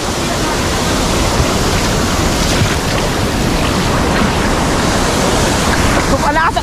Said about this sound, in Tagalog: Lakas sa agos.